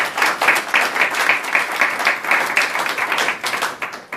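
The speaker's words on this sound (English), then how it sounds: "Give him a round of applause." An audience gives a round of applause for Rabbi Honig: steady, fairly loud massed clapping that pulses in a quick rhythm for a few seconds before thinning slightly at the end.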